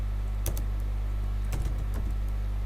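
Several quick keystrokes on a computer keyboard in two small clusters over a steady low electrical hum, close and fairly faint.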